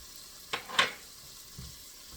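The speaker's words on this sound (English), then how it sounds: "Saute that a little bit." Garlic and onions sautéing in a pan for a creamy tomato soup, giving a faint sizzle broken by two sharp utensil scrapes close together and a softer stir later on.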